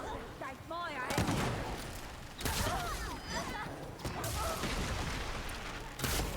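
Gunfire in the video game Remnant II: rapid shots and bursts crack over a busy layer of game effects, with voices speaking through much of the stretch.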